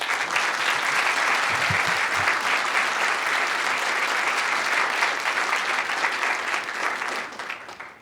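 Audience applause welcoming Douglas Gresham at a question-and-answer event, a steady, dense clapping from a large crowd that holds for about seven seconds before fading.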